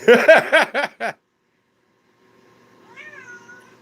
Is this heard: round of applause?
no